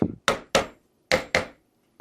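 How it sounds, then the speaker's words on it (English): A small hammer gently taps an aluminium piece down onto a garden railway bridge kit, giving four crisp, close knocks in two pairs, each ringing briefly before fading, with no talk. "using our little hammer, we just gently tap"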